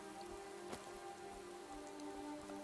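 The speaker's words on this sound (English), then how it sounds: "It seems like the rain would make it pretty slushy pretty quick." Rain falls steadily in the video game Skyrim, a constant soft patter under a droning ambient game tone, with no talking.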